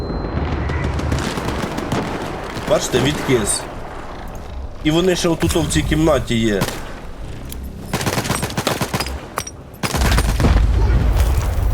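Video game S.T.A.L.K.E.R. 2 combat with rapid gunfire bursts and grenade blasts, loud and close, mixed with someone talking over the action.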